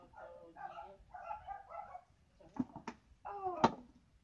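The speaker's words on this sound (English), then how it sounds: "Sorry about my dogs." Pet dogs bark in quick, moderately loud bursts in a home, with a few yips and whimpers mixed in near the end.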